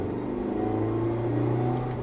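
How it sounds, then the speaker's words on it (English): A Mazda MX-5 Roadster with a broken transmission drones at a steady, flat engine pitch with a faint whine, continuous and close for a couple of seconds, with no talk. "And this is how it sounds like with a broken transmission."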